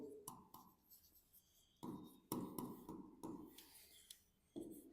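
Pen writing depreciation entries in a Class 11 accounts lesson, with soft, close scratching strokes in irregular short bursts and pauses and no talking.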